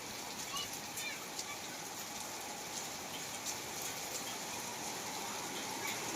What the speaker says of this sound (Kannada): ಮಳಿ ಮಾತ್ರ ಜೋರೈತಿ.